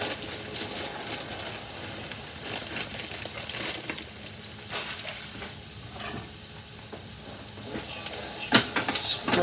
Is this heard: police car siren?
no